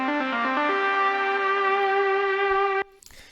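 A bright, sustained synth line from the Diva software synthesizer climbs through a few quick stepped notes, then holds one long tone with rich harmonics before cutting off abruptly.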